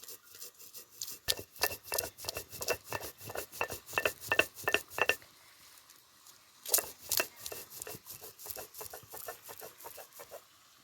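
Coriander seeds and spices ground by hand into masala for a spicy drumstick curry, a rhythmic run of scraping, rubbing strokes close by that pauses briefly midway and then resumes, with no talk.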